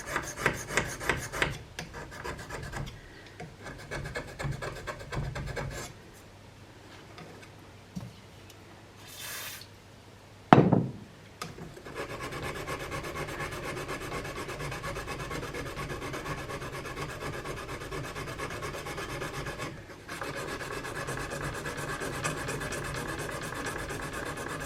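A knife blade is hand sanded with stones, producing steady repetitive rasping strokes, close and fairly soft, with a brief pause and one sharp knock partway through.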